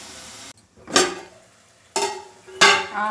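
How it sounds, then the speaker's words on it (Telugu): Metal lid set down on a pan of softening chopped onions, giving three sharp clanks with metallic ringing tails, close and clear with no talk. "ఇప్పుడు మనం ఏం చేద్దామంటే దీని మీద మూత పెడదాం"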